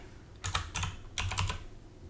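Computer keys clatter in two quick bursts of close typing while a material is renamed, with a short gap between them in an otherwise quiet room.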